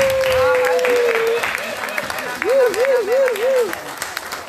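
Audience applause and crowd noise fill a church hall during an honorary-title ceremony for women, with loud cheering and ululating voices over continuous clapping.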